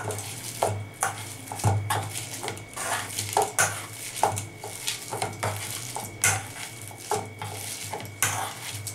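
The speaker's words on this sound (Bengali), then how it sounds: "এইবার আমি এই ম্যাশার দিয়ে ম্যাশ করে নেবো।" A hand masher works through wood apple pulp in a metal bowl, with repeated clinking and scraping strikes in an irregular rhythm, close and fairly loud.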